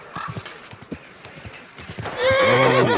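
A horse in the medieval video game Kingdom Come: Deliverance II, with clip-clop hoof steps giving way to a loud, close, drawn-out neigh at the end.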